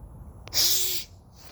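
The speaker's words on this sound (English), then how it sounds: "I gotta blow my nose here" A single forceful nose blow, a breathy hissing burst lasting about half a second, close to the microphone with quiet room noise around it.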